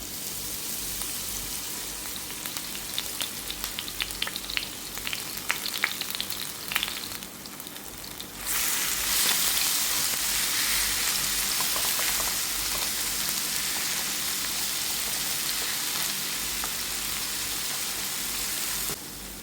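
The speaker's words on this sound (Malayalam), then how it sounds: "എണ്ണ ഒന്ന് ചൂടായി വരുമ്പോൾ നമുക്ക് ആദ്യം തന്നെ ഇഞ്ചി വെളുത്തുള്ളിയുടെ അങ്ങോട്ടിട്ട് കൊടുക്കാം." Ginger and garlic sizzle in hot coconut oil for a Kerala-style prawn pepper roast, a soft crackle at first that jumps into a loud, steady, rain-like frying hiss partway through and holds to the end.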